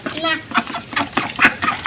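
Ducks back at a rural homestead in Bangladesh give short, close quacks in scattered bursts, overlapping with people talking nearby.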